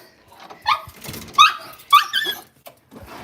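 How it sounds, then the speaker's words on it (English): A puppy makes happy noises: a series of high, excited yips and whimpering squeals, three or four bursts close to the microphone, with brief pauses between them. "Happy noises from the puppy."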